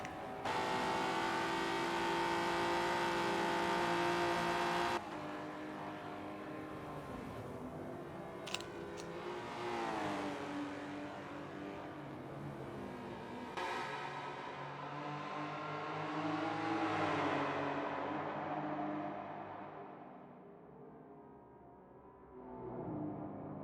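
BMW and Alfa Romeo historic touring cars racing side by side through a tunnel, engines revving hard and echoing, with gear changes, rising and falling pitch, and the roar fading as they pass.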